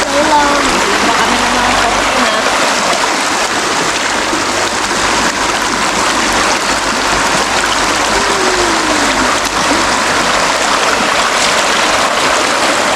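River water flows and splashes continuously at close range, a steady broadband rush with occasional bird calls faintly above it.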